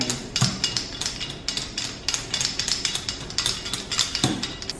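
Pork belly in a bowl is pierced repeatedly with a metal utensil, giving a steady run of sharp clinking taps against the bowl, close and fairly loud, with no talk.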